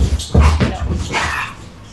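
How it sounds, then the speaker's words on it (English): Dogs playing in the background, with short barks and yips over about two seconds, fairly loud and somewhat distant in a room. "the dogs are kind of loud back there"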